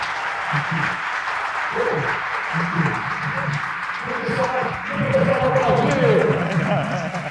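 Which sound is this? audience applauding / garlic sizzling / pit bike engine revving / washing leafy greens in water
audience applauding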